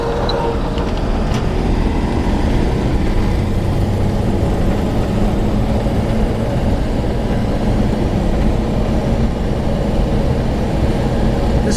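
A 1940 Buick 81C runs steadily as it drives out to the road, a loud, continuous low engine rumble with road and wind noise and no voices.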